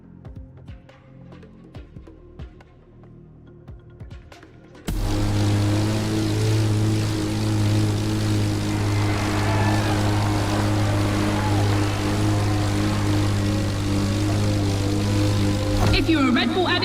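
An airborne propeller plane in the racing game The Crew Motorfest. After a few seconds of quiet ticking, a loud, steady engine drone with strong humming harmonics sets in and holds, closing with a short burst.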